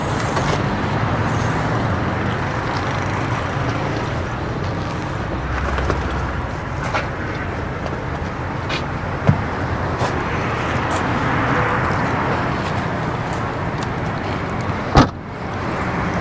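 Cars and other vehicles idle and roll past at a police entry checkpoint in Islamabad, a constant low road rumble with a couple of sharp knocks, like a door or thump, standing out.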